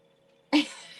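Cat sneezing indoors, a single sharp close sneeze bursting out of near silence and trailing off quickly.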